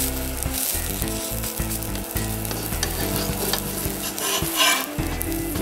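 An egg omelette for a sandwich sizzles steadily in a pan, a continuous close frying hiss with faint low background tones and no talking.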